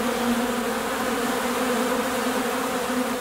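Honey bees swarm near a hive in a steady, loud, close buzz with a clear droning hum that holds unbroken throughout, with no voices.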